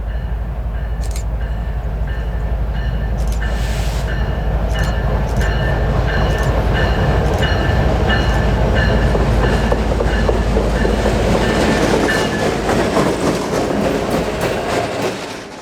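Canadian Pacific freight train led by two six-axle SD30C locomotives rolling past in the mountains, a loud, steady rumble of engines and wheels with clicking rail joints and faint squeals throughout, growing fuller toward the end.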